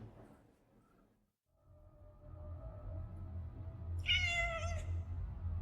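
A ghost cat in the game What Comes After lets out a clear, drawn-out meow over a soft low ambient hum, with a quiet, faint earlier mew and no voices.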